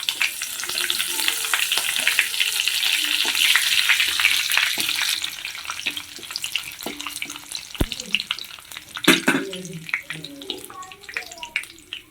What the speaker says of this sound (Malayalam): ഇപ്പം നമ്മുടെ കടുകൊക്കെ പൊട്ടിക്കൊണ്ടിരിക്കുന്ന അതിൻ്റെ കൂടെ തന്നെ നമുക്ക് കരിവേപ്പില ഇട്ട് കൊടുക്കാം